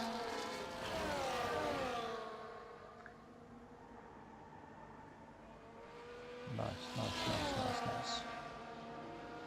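Race cars pass in a sim racing game at the Netherlands round, engines howling up and down in pitch as they sweep by in a convoy, two clear passes with a brief spoken word between them.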